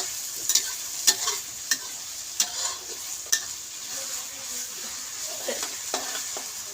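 Curry paste sizzles in a pan for a Thai spicy catfish stir-fry, a steady frying hiss punctuated by sharp, irregular spatula scrapes and knocks as it is tossed.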